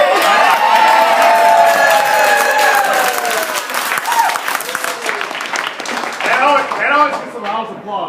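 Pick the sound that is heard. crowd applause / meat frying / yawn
crowd applause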